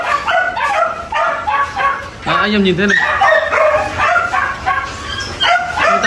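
Several Belgian Malinois dogs at a kennel bark and yip in loud, overlapping bursts, some whimpering, close by while someone talks over them throughout.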